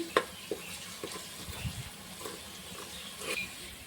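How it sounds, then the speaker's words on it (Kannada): Ginger and garlic frying in a pan give a soft, steady sizzle with a few faint stirring taps, close but quiet, with no talking. "ಶುಂಠಿ ಬೆಳ್ಳುಳ್ಳಿದು ಹಸಿ ವಾಸನೆ ಹೋಗತ್ತಾನ ಹಸಿ ಸ್ಮೆಲ್ ಹೋಗತ್ತಾನ ಫ್ರೈ ಮಾಡ್ಕೋಬೇಕ್ರಿ"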